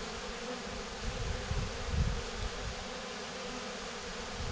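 A honeybee swarm buzzes steadily at a divisible Layens hive, a dense continuous drone with a slight swell in the middle and no talking.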